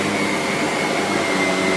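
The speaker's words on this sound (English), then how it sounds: "That's what we want out of a vacuum cleaner." A SEBO E3 Premium barrel vacuum cleaner running on carpet, a steady, loud, close motor whine with airflow hiss and no pauses or talk.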